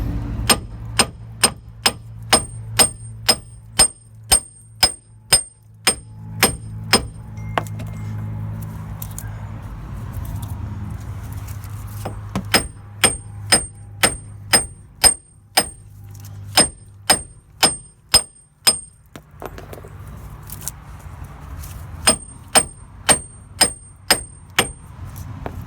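Hammer blows knock a rusted front brake disc loose on a 2013 Renault Master 2.3 dCi van, sharp ringing metallic clangs struck close by in rapid bursts with short pauses between them.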